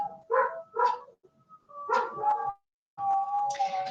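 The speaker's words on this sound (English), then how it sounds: "Can you hear my dogs howling?" Dogs bark in a few short bursts and let out a higher drawn-out howl, heard indoors at moderate distance with pauses between calls and no talk over them.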